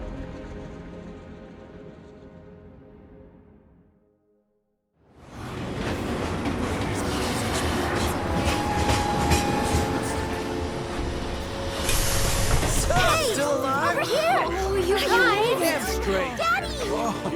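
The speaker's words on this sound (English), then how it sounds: "Like this train, I suppose." A train in the Final Fantasy VII Remake video game runs along its rails with a continuous rattling rumble and clatter that swells after a brief quiet gap, while characters speak over it.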